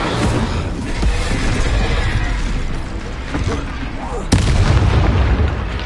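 Repeated Confringo explosive spell blasts in the Hogwarts Legacy video game, loud booming bursts amid continuous battle noise, with a sharp, heavy impact near the end.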